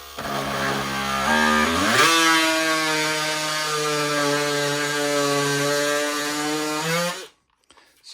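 A Spyder oscillating multi-tool blade plunge cuts into a piece of MDF: a loud, close, buzzing whine that rises in pitch after a couple of seconds, holds steady, then cuts off abruptly.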